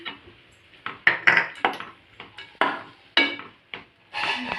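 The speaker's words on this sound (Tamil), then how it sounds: "தேங்காவை ஆட் பண்ணி நல்லா நம்ம கிண்டி விட்டுக்கலாம்." Cabbage poriyal with grated coconut stirred in a pan with a spoon, heard as repeated scraping strokes in an uneven rhythm, close and clear with no talking.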